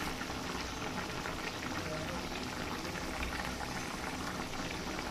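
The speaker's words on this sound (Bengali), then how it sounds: "যেহেতু ফোটা শুরু হয়ে গেছে" Eggplant and green banana in sesame paste boil steadily in a pot, a continuous close bubbling and gurgling that stays even and fairly loud throughout.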